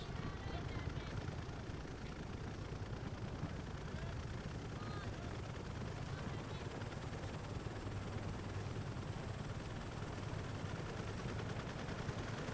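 Faint, steady helicopter rotor and engine drone in the Vietnam-era campaign of Call of Duty: Black Ops Cold War, a continuous low rumble running the whole time with soft background noise.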